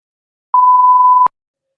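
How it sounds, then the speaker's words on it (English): A phone sounding a tornado warning alert: a single steady electronic beep lasting under a second, loud and clean, with silence before and after. "A tornado warning popped up on the phone."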